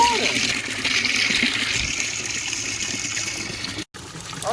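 A bucket fills with water in a steady close splashing gush that stays even and runs throughout.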